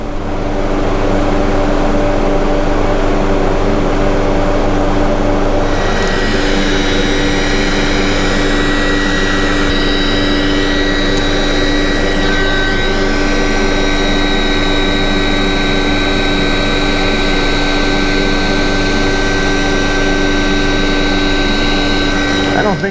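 An electric space heater runs steadily in a workshop, giving a loud, even blowing roar with a constant hum that fills the whole clip without a break.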